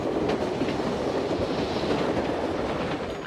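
Train rolling along rails, a continuous loud rumble with faint rhythmic clicking and occasional high squeal, steady from start to finish without speech.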